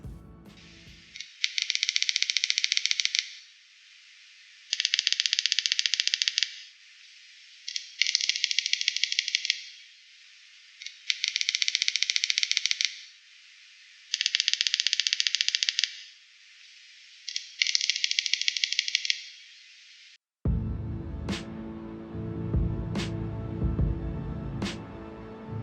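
A female Palma stick grasshopper makes a rhythmic mating call: six high, dry rattling bursts of about two seconds each, evenly spaced with short gaps, loud and close.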